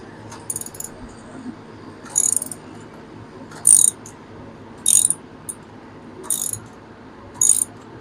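Ratchet wrench loosening a tight bolt while fitting a quick shifter on a Yamaha R7 motorcycle, with about six short bursts of close metallic clicking separated by pauses.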